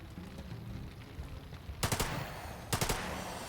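Gunfire in The Lamplighters League, a turn-based tactical game: two separate quick bursts of three or four sharp shots each, fairly close, following a low murmur of background sound.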